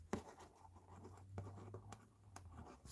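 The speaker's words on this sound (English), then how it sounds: "I'm going to just write replay" Marker writing on the top of a cardboard box, soft intermittent scratchy strokes, close and quiet against a low background hum.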